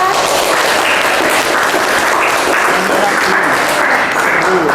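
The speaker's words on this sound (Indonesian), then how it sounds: "silakan tepuk tangan buat kalian" Steady, loud clapping fills a classroom as students applaud during an art lesson, a dense continuous wash of hands lasting several seconds with faint voices underneath.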